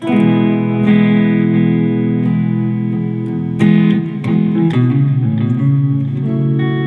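Electric guitar chords ring out with effects and reverb, changing every second or so in a steady progression, played alone.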